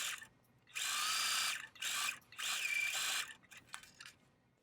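Sewing machine runs in three short bursts while stitching a zipper into a bag, its steady motor whir stopping and starting, with quiet handling clicks between runs.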